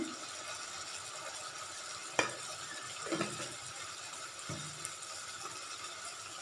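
Chili powder being stirred into a pan of aloo and brinjal curry, with a few soft scraping strokes of a spoon over a faint steady sizzle, close and quiet.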